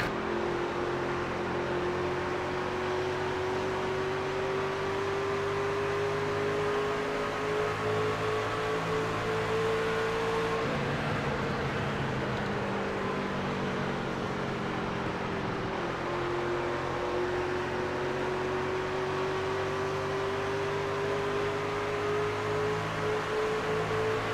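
Race trucks in a video game circle a track with a steady, droning engine whine that dips and changes pitch in the middle as they come off the throttle through a corner, then settles back into a sustained hum.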